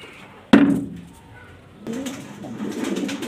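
A black imported Danish male pigeon coos low and throaty, preceded by one sharp knock, with a softer stretch before the cooing resumes steadily near by.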